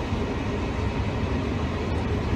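A subway train ride on the metro, a steady, loud rumbling roar of the moving carriage with no break and no talking.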